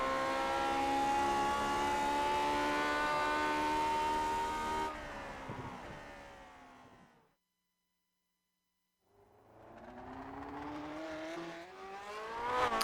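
A vintage race car engine screams at full throttle along the Suzuka pit straight in Grand Prix Legends, loud and steady, then fading away to silence before another car rises back in, revving up closer.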